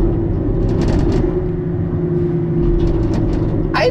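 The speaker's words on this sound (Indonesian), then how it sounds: "Ini bener-bener mirip kayak mobil ngelewatin curb gitu." A car in a motion driving simulator game rolls over a curb, giving a loud, steady low rumble with a few faint clicks and a brief sharp noise near the end.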